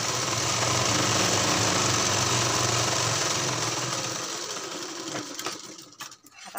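A sewing machine stitches a blouse, running in a loud, steady whirring burr for about five seconds before slowing and stopping with a few faint clicks.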